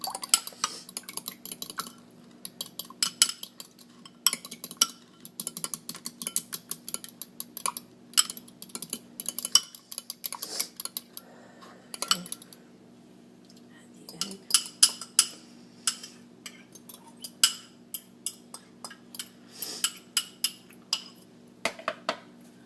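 A spoon whisks egg into a meatball mixture in a bowl, making quiet rapid clinks and scrapes in rhythmic bursts with short pauses, close and intimate in a whisper setting.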